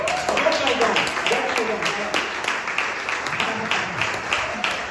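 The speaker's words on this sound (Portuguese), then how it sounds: "Aplauda o Senhor aí, bem forte." Church congregation clapping steadily and firmly throughout, a dense crowd applause with voices speaking over it.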